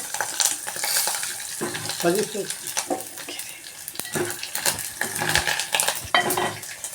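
A spoon scrapes and stirs a tempering of spices frying in oil for toor dal rasam, the oil sizzling and spattering steadily, with metallic clinks throughout and a faint voice in the background.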